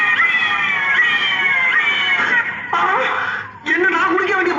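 A cat drinking milk meows and caterwauls in long, wavering, whiny cries, loud and close, continuing for several seconds with a brief pause midway.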